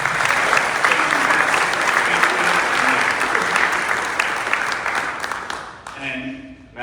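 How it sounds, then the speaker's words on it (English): Audience applause at a Meckler event on exercising freedom, a sustained broadband clapping from a large crowd holding steady for about six seconds before tapering off, with a voice coming in at the end. "Another round of applause for Ruth, please."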